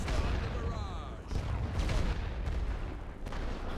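Artillery barrage in a World War I game set on the Western Front near Lille: dense, rolling booms and crackling gunfire, with heavier bursts around the middle and near the end, loud and continuous throughout.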